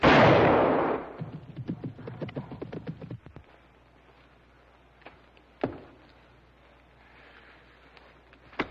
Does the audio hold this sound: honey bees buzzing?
no